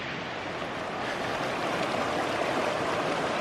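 Shingle Creek in the Uintas runs full, a steady broadband rush of flowing river water that stays loud and even throughout, with no voices over it.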